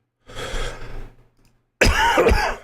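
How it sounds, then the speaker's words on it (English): Two coughs a moment apart: a softer, rougher one, then a short pause and a louder, harsher cough close to the mic. "Sorry, I do have a cough"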